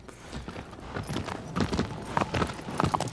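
Horse hooves clip-clop in Shadow of the Colossus, a quick uneven run of close hoofbeats that grows louder toward the end.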